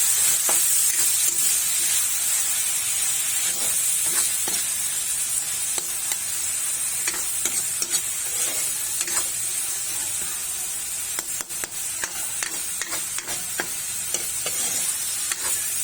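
Onion, garlic and tomato sauté in a pan for pork binagoongan, giving a steady, close sizzle with intermittent scraping and stirring clicks, and no one talking.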